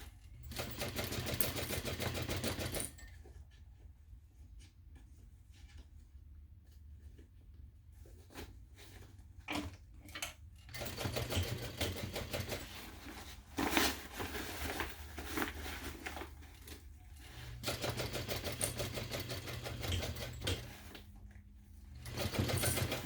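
A sewing machine stitches a messenger bag in rapid mechanical bursts, stopping and starting with quiet pauses between runs, close and clear with no talk.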